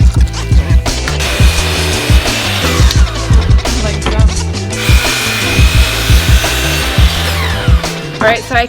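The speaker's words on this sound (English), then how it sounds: "now I'm just cutting a few more 1x2s that will go on the actual shelves" 1x2 wooden boards being cut for office shelves with a power saw, which whines loudly in repeated passes and stops between cuts, with brief workshop clatter near the end.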